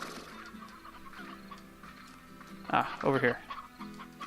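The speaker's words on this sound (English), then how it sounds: "I definitely heard some chickens spawning." Chickens cluck in the Slime Rancher video game, with a few quick, fairly loud bursts of clucking near the end following a quieter stretch, and a person speaks briefly.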